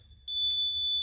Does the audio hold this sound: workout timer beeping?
yes